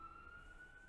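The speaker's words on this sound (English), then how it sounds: "there's some sirens going off outside" Emergency vehicle siren sounding outside, a faint, steady wailing tone heard from a distance through a window, continuous for the whole stretch with low background rumble.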